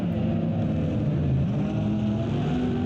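A Porsche GT3 race car in a racing video game at the Nürburgring Grand Prix circuit holds a steady engine whine, its pitch dipping and then climbing again as it runs hard and alone without talk.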